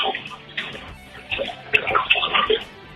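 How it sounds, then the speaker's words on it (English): Water sloshes and splashes in a bathtub, heard thinly over a phone line in irregular bursts that build toward the end. "I hear water."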